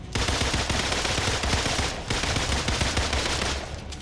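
Rapid automatic gunfire from the video game Marvel's Avengers rattles continuously and loudly for about four seconds, with a brief dip near the middle and no talking.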